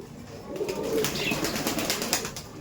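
Young Kaldom pigeons flap their wings in a loft, a soft, steady fluttering rustle with brief wingbeat bursts, close and moderately loud throughout.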